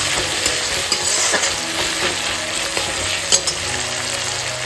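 Ginger and spices sautéing in hot oil in a pan, a close, even sizzle with a few light scrapes and taps of a spatula stirring at irregular moments.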